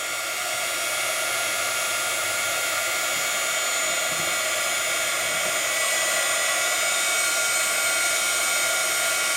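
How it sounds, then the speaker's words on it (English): A heat tool running on high, used on crackle paste in a craft project, gives a steady, loud, unbroken blowing roar from start to finish, with no speech. "I've got my heat tool on high"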